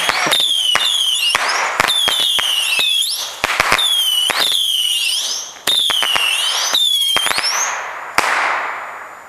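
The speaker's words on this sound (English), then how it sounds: "Some dope ass fireworks right here." Fireworks, including bottle rockets, firing in rapid succession outdoors: loud whistling rising shrieks overlapping with sharp crackling bangs, dense and close, continuing for several seconds.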